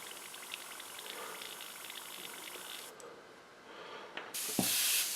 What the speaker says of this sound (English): We will go ahead and back flush this a little to help the paint mix back